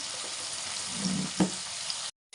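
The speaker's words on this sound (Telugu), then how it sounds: "సరిపడా సాల్ట్ మొత్తం మంచిగా కలిపేస్తుంది" Turmeric, chili powder and salt being stirred into a meal maker and potato kurma in a pan: a steady close sizzle with a brief spoon scrape midway, no talk, cutting to silence near the end.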